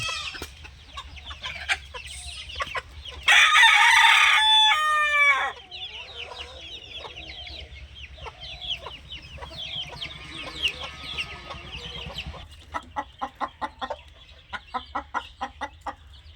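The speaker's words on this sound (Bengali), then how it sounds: "আর এই পাশের একটা মোরগ, এও দারুণ কোয়ালিটি।" Asil fighter rooster crowing loudly near the middle, alongside repeated clucking from hens and young chicks in a backyard coop, with scattered chirps and short rhythmic clucks toward the end.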